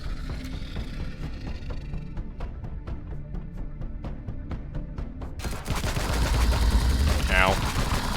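Rapid automatic gunfire from the space game Empyrion erupts as a character spawns, a steady stream of sharp repeated shots that gives way to a louder, denser roar of noise, with no talk over it.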